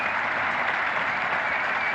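Cricket crowd and pavilion members applauding David Gower's double century against India in 1978, a steady, even wash of clapping with no break through the short stretch.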